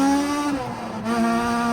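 A Honda-style VTEC engine revs hard on a race track, a loud steady harmonic whine that dips briefly then climbs again as the cam changeover kicks in, close and continuous without speech.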